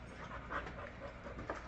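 A dog pants steadily and fairly close during a dragon fruit tasting, its quick breaths blending into a noisy background.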